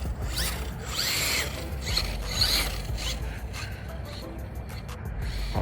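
A Kraken Vesla fifth-scale RC car on 12S power runs close by, its drivetrain whirring and rattling in repeated bursts with gear noise throughout.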